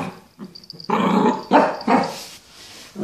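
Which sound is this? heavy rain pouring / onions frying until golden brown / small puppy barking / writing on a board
small puppy barking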